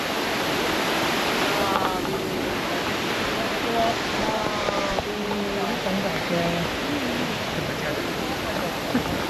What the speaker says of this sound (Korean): 위에가 자연 폭포네요